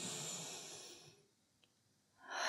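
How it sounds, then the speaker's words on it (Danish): A deep inhale drawn during a lying leg exercise, a long close breathy hiss that fades into near silence before a second breath sound begins at the end. "Træk vejret ind."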